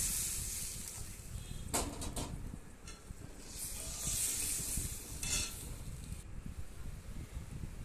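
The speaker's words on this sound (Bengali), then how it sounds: "এই যে ঝোলটা ফুটে উঠছে" Tilapia fish curry gravy with charred tomato simmers in a pan, a faint, steady bubbling hiss with a few soft stirring scrapes, no voices.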